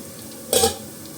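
Green chillies dropped into onions sautéing in a pan, giving a single short burst of sizzle over a quiet background hiss.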